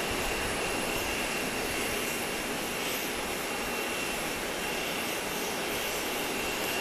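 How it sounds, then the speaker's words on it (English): A Cayman Airways Express plane arrives at Grand Cayman from Little Cayman, its engines a loud, steady, broadband roar that fills the whole stretch without letup and with no talk over it. "Cayman Airways Express is coming in from Georgetown."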